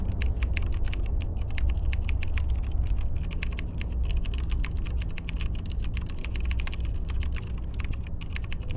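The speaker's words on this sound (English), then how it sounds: "His fingers bang over the keyboard like they're possessed." Rapid typing on a computer keyboard in the video game Unavowed, a dense run of sharp key clicks in quick irregular bursts over a low background rumble, steady throughout with no talk.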